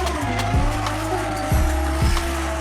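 A Toyota Mark II JZX100 sedan drifts with its engine revving hard and tires squealing and skidding in several sharp bursts, heard loud and fairly close.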